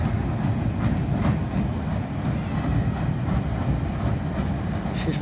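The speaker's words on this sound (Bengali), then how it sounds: "শিশুদের জন্য ট্রেন" A children's amusement train runs at a recreation spot near the Uthali bus stand in Jibannagar, Chuadanga, making a continuous close rumble with faint rhythmic clacking throughout.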